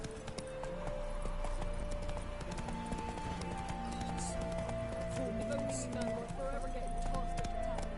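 Horse hooves clip-clop in a rapid gallop in The Witcher 3, steady and continuous under game music and background voices throughout.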